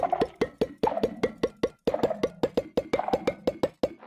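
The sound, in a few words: video game item filling, rising pitch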